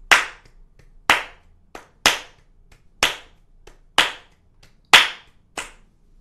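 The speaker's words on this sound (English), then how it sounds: "So you can clap one loud clap when you are on the metronome beep and everything else is" Hand claps keeping a metronome pulse, one sharp loud clap on each beat followed by a softer clap between, about seven loud accents in steady rhythm, close and alone.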